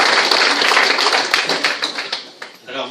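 Audience clapping for a co-president at a French cycling federation gathering, a brisk round of many hands that thins into scattered claps and fades, with a voice speaking briefly near the end.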